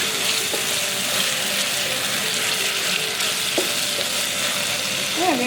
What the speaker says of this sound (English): And then you keep stirring.